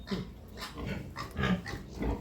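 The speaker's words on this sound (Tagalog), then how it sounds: "ang dami pala dito baboy oh" Native pigs in a farm pen grunting and snuffling close by, a series of short, low, rough grunts recurring irregularly without talk.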